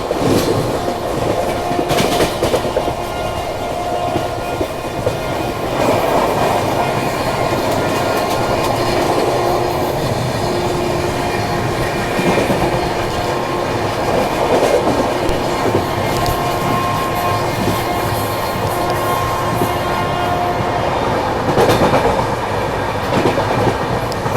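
The Trivandrum Rajdhani Express runs steadily on the rails, heard from inside a first-class coach as a continuous rumble. Faint wheel clatter and occasional squeals sound throughout.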